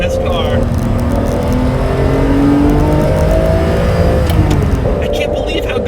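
A 1990s sports car engine, either a Ferrari 512TR or a Porsche 911 Turbo, pulls hard through the gears, loud and close, with rising revs and a clear dip at a gear change.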